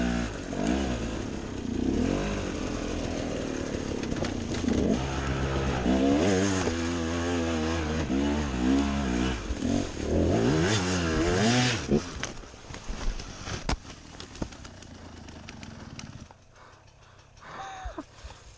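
Husaberg enduro motorcycle revving hard while climbing off-road, its engine rising and falling in loud, close bursts of throttle for most of the stretch before dropping off sharply near the end.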